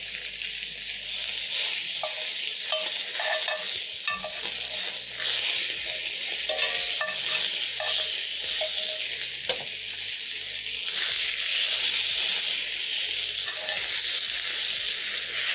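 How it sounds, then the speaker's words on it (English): Lamb chops sear in a hot frying pan, giving a steady, dense sizzle and crackle with occasional clinks of the pan and utensils, and no voices. "As the lamb chops are searing"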